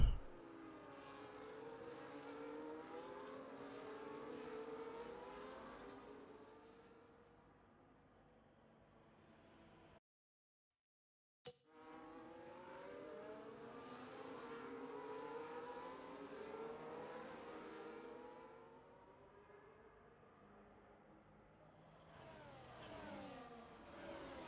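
Race cars in a racing video game at the Hungary circuit, engines revving and shifting through rising and falling tones in continuous layered passes, with a brief silent gap midway.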